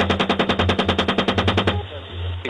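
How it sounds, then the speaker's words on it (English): Rapid automatic gunfire rattles in a fast, evenly spaced burst of about twenty shots, loud and close, then stops abruptly, leaving a low rumbling background. "Keep shooting."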